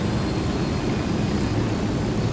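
A helicopter in the video game Ghost Recon Wildlands drones steadily and loudly with a constant rotor and engine rumble, unbroken and with no talking.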